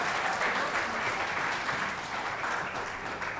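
Steady audience applause at the NTA Awards 2024 open-mic event, an even wash of many hands clapping, moderately distant and unbroken for a few seconds.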